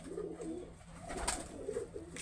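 Pigeons from a matched pair of Pakistani dab-wale pigeons coo softly and repeatedly at close range, a low rolling murmur with a brief sharper burst midway.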